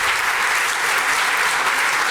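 A summit audience at the Paris Summer Summit wrap-up claps in thick, continuous applause, an even wash of many hands that stays loud and close throughout.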